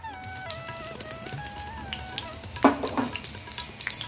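Green chillies fry in hot oil in a wok, giving a faint, steady sizzle with a sharper spatter partway through, under some thin tonal background sounds.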